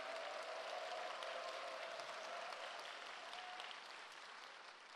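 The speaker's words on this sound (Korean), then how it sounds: "박수 한번 크게 써주시고." Applause from a chapel audience welcoming a Texas a cappella choir, a steady dense wash of clapping that holds for about five seconds and fades slightly toward the end.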